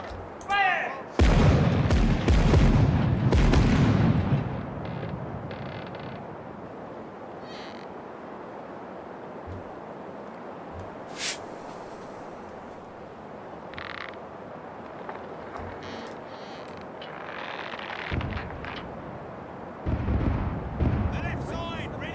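Ship's cannon fire in the game Caribbean Legend booms loudly at the start in a heavy, rumbling salvo that fades into a long quiet stretch of wind and sea ambience, with a few more thuds near the end.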